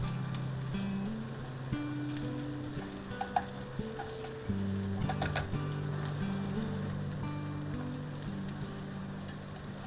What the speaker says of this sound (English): Add a Chinese mushroom. So fry in a really low heat.